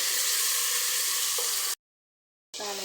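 Chopped tomatoes frying in a pan for biryani, a steady bright sizzle that cuts out briefly into silence before the hiss resumes with a clatter.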